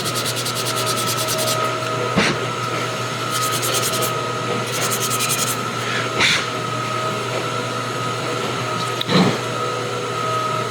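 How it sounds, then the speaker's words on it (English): Repeated scratchy rubbing strokes of a fine and super-fine sanding sponge over a 1/4-scale He-Man figure, over a steady background hum, with a few sharper scrapes. "I'm just using this fine and super fine sanding sponge to kind of go back over some of these areas"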